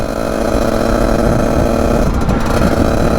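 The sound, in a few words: motorcycle engine revving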